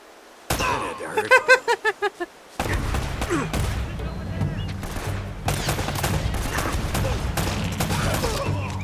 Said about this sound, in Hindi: अरे ये कहाँ गोली चला रहा है